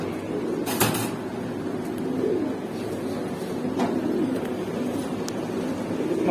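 Pet pigeons for sale, a pair of Punky Fade birds, cooing in soft low repeated calls at close range, with a couple of sharp clacks and light background noise.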